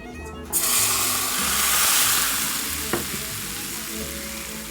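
Hot oil hits garlic and chili with a sudden loud sizzle that swells into a steady close crackling hiss, with a small clink partway through.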